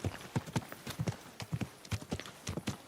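Horse hooves clip-clop at a steady walking pace in the video game Kingdom Come Deliverance 2, about a dozen distinct close, crisp hoofbeats in an even rhythm with no talk over them.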